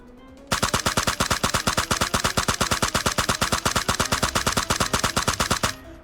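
Rapid automatic gunfire from a standing position in a shooter video game: one sustained burst of evenly spaced, loud shots at a steady fast rhythm for about five seconds, then it stops abruptly, no talking.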